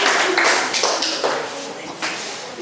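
A classroom of students claps for a group that has just presented, producing a fairly close, uneven patter of hand claps that thins and fades with a few louder individual claps near the end.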